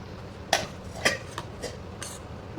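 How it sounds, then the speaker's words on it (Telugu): Onions being stirred into milk in a cooking pot, heard as a few distinct clinks of a spoon against the pot, spaced roughly half a second apart and fairly close, with no talking. "ఉల్లిపాయలు వేసి ఒక 2 సార్లు తిప్పాలి."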